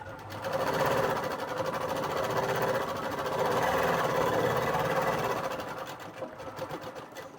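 A sewing machine runs steadily while stitching a blouse, a close, fast mechanical chatter that holds for several seconds before slowing near the end, with no voices.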